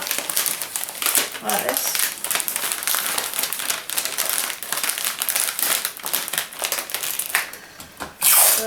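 Cellophane wrap crinkling as it is folded around a mini bath bomb gift, a continuous close crackling rustle with sharp bursts while a person talks over it.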